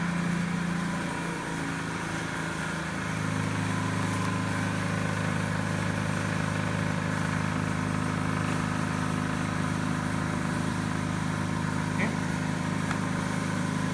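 A DC motor spins at 1720 rpm on a lab bench, producing a steady electrical whine and hum with layered tones that shift slightly early on, then drone evenly and continuously.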